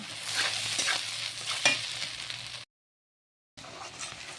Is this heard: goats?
no